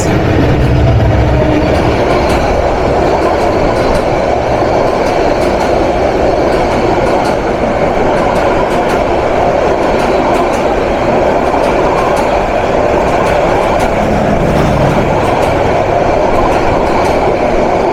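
The Cox's Bazar Express train in Bangladesh rumbles past steadily and loudly, wheels clattering on the rails with a dense roar throughout, no voices.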